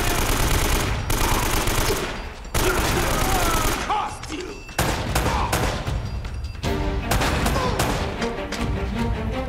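Blind-fire gunshots in Uncharted: Drake's Fortune, loud dense bursts of automatic fire in several volleys separated by brief pauses, close and dominant, with no clear talk over them.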